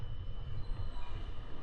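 A train running through the Netherlands toward France gives a steady low rumble of rolling wheels and carriage noise, continuous and fairly quiet for the whole stretch, with no one speaking.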